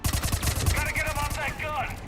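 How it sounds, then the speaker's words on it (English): Rapid fire from a mounted gun in the Mass Effect 3 video game, a continuous fast rattle of shots with voices shouting over the top. "Trooper on the gun, Shepard."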